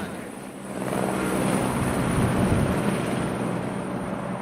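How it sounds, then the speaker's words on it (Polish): A helicopter comes down onto a school rooftop, its loud, steady rotor and engine roar building slightly and holding close throughout, with no voices. "Na dachu naszej szkoły wylądował właśnie helikopter"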